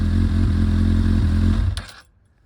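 A 2008 Honda CBF 1000SA idles through open exhausts with no dB killers, a smooth, close, even putter that abruptly stops with a brief clatter, leaving near silence.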